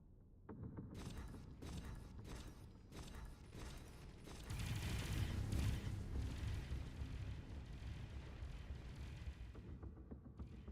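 A torpedo strikes an enemy ship in the space game Avorion, bursting into a loud, sustained rumbling explosion with crackling debris that swells midway and keeps roaring over continuous weapon and mechanical noise.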